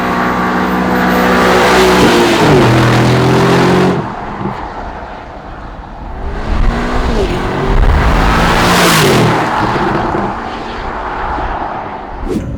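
An Aston Martin DB12 supercar sweeps past twice in separate passes, the engine swelling loud and close, then fading as it moves away, with wind and road roar in between.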